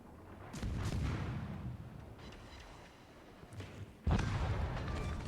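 Warship main battery guns firing in World of Warships during a cruiser engagement: heavy, booming low salvos roll out at about half a second and again at four seconds, with a windy, rumbling sea ambience between them and no talking.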